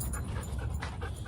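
Several dogs panting steadily and close by, a continuous rapid breathy rhythm with no talk over it, as excited dogs are brought together while boarding and socializing.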